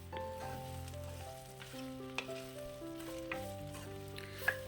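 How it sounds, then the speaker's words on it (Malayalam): Taro stems coated with turmeric sizzle in a pan as they are stirred, a close, continuous crackle with a few sharper scrapes, over soft background music. "ഈ ഇളക്കുന്ന സമയം കൊണ്ട് ഈ ചേമ്പുതാൾ നല്ലവണ്ണം ഒന്ന് ചൂടാവും"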